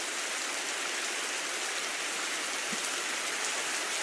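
Rain falling steadily, a dense even hiss of drops with no breaks or voices, close and fairly loud throughout.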